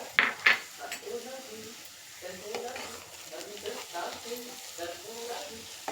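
Potatoes fry in a pan with moringa leaf powder, a steady soft sizzle running throughout while a spoon stirs and scrapes, with a couple of sharper metallic clinks near the start and a voice talking over it.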